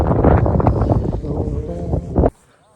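Strong wind at the Ponmudi hilltop buffeting the microphone in loud, low gusty roars mixed with voices, cutting off abruptly near the end.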